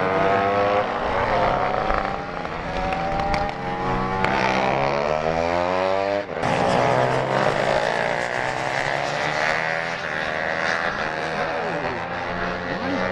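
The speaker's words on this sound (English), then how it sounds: "Let's see how loud these bikes are, shall we?" Loud roaring motorbike engines rev and sweep up and down in pitch as they pass, a continuous blaring din.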